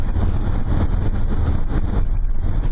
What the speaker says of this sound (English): It's windy today. I bet that wind is blowing 40 miles an hour.